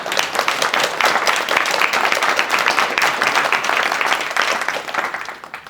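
An audience at a library event applauds the library staff, a dense, loud burst of clapping that holds steady for several seconds before tapering off.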